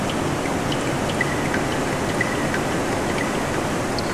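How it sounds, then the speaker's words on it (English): Underground river rushing through a cave in Meghalaya, a steady broadband roar of moving water with occasional faint drips, constant and fairly loud throughout. "Underground rivers boom in surround sound."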